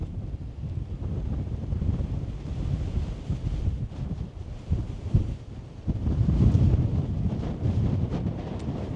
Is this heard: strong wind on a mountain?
yes